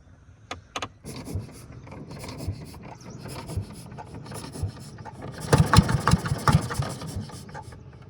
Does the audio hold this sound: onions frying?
no